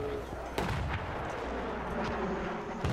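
Gunfire and heavy booms in a military video game, with a few loud, punchy reports over a continuous rumbling battle background, mixed with muffled radio-style chatter.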